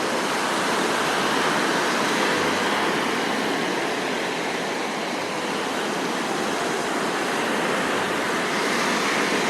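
A loud, constant roar of sea surf washing onto the shore at Gwangalli Beach in rain, steady throughout with no voices.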